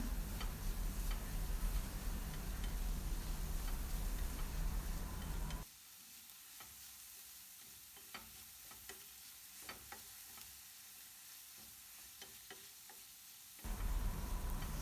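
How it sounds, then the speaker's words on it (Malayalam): Vegetables seasoned with salt and pepper sauté in a pan with a continuous sizzle and scattered utensil taps. The sizzle eases down for several seconds midway, then rises again. "നന്നായിട്ടൊന്ന് വഴറ്റിയെടുക്കാം"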